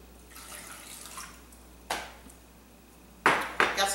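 Water splashes into a saucepan of dried apricots and orange juice in a home kitchen, a soft trickle followed by a few sharper pouring bursts near the end, close and moderately loud.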